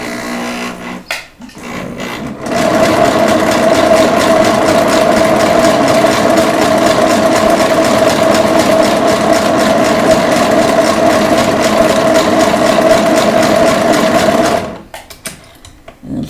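A sewing machine runs in one long, loud, steady mechanical hum with a constant pitch for about twelve seconds, preceded and followed by brief handling noises, with no talking.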